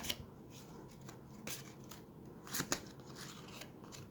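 Tarot cards being drawn and handled from a deck during a reading, giving soft papery slides and crisp snaps, with a few louder flicks near the end, quiet and close with no talking.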